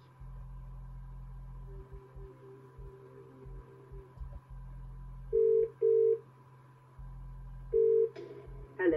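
A telephone rings in short paired electronic bursts for a phone-a-friend call in a Who Wants To Be A Millionaire DVD game, over a low steady hum.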